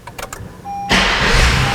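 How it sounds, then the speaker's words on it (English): Push-button start of a 2015 Acura TLX V6 SH-AWD Elite: a few clicks and a brief whirring tone, then the engine catches with a loud, steady idle rumble, close by. "So let's turn on the car."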